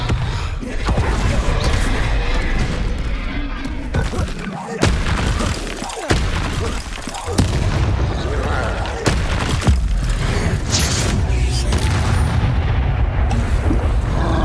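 Spell combat against a troll in the Hogwarts Legacy video game, loud booming blasts and impacts layered over a constant dense rumble, with a voice calling out spell names over the action.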